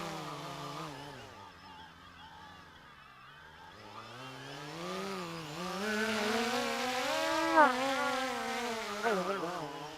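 A small drone with only two of its propellers fitted spins up its motors in a steady, close whine that rises and falls in pitch, swelling louder toward the end.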